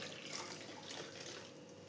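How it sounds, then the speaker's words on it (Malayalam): Two glasses of water poured into a bowl of ground coconut for a Kerala prawn and raw mango curry: a steady, continuous close-up gush of liquid for the whole stretch, with no talking. "ഇനി നമുക്ക് ഇതേ ബൗളിൽ തന്നെ 2 ഗ്ലാസ് വെള്ളം കൂടെ ഇപ്പോൾ ഒഴിച്ച് കൊടുക്കാം."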